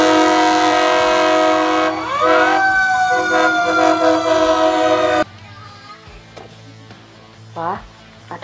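A toy fire truck's electronic siren plays loudly and continuously, wailing and falling in pitch partway through, then stops abruptly. A voice briefly rises and swoops near the end.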